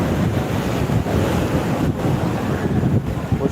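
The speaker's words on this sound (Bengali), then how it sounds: "সেই সঙ্গে সমুদ্র বেশ ফুলে ফুটে রয়েছে আজকে" Sea surf and gusting wind on Digha beach on a rainy day with a swollen sea, heard as a steady, loud, close roar of breaking waves mixed with wind buffeting throughout, with no voices.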